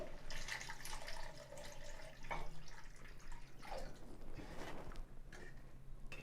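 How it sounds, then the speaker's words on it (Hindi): A glass of water is poured into frying masala for a besan sabzi, a splashing, bubbling pour with drips and a simmering hiss, close and fairly quiet. "थोड़ी देर बाद हम इसमें 1 गिलास पानी ऐड करेंगे"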